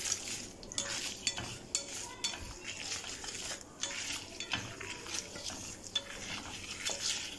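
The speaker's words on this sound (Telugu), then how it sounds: "శనగపప్పు కొంచెం ఫ్రై అవ్వనివ్వండి." Chana dal fries in plenty of oil with ajwain, dried red chillies and curry leaves in a pan. A steady sizzle runs throughout, broken by frequent clinks and scrapes of a stirring utensil.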